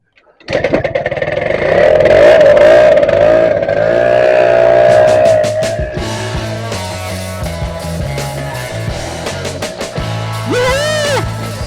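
A scooter engine runs loudly and steadily, then revs and pulls away as the rider sets off, with engine tone rising and shifting and music-like tonal elements layered over the motor.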